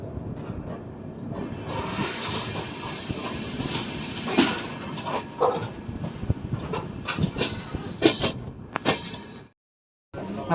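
Indian Railways Sampark Kranti express hauled by a WDM ALCO diesel locomotive, heard as a steady rolling rumble with clanks and rattles throughout, ending in a sudden cut-out before a brief return.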